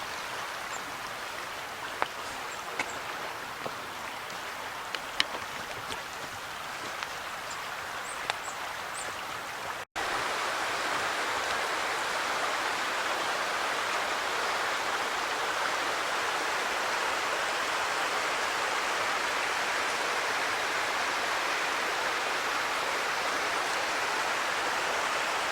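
A small waterfall on a wooded nature preserve trail gives a steady, even wash of rushing water, faint at first with a few ticks and knocks, then fuller and constant as the recording draws closer.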